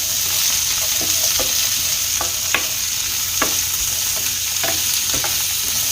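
Onion and carrot with a pinch of salt sauté in a hot pan, a steady sizzle broken by repeated scraping stirs, close and fairly loud with no voices.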